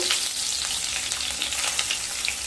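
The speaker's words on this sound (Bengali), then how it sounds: "আলুগুলোকে ভেজে নিয়ে তারপর ফিরে আসছি।" Medium-sized potatoes frying in oil left over from cooking fish, a steady dense crackling sizzle that stays loud and continuous throughout with no voices.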